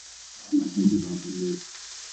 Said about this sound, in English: I hope y'all hear me over the popping oil